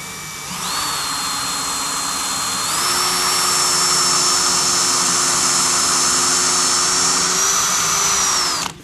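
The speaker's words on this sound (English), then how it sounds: "Drill all the way through." A power drill fitted with a 1/8 inch brad point bit bores through a guitar body, a sustained steady whine that steps up in pitch partway through, loud and close, then cuts off.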